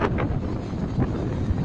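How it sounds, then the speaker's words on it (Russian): Strong wind at the seashore buffets the microphone in gusty, rumbling bursts, a rough low roar with no other clear sounds. "Ветер очень сильный."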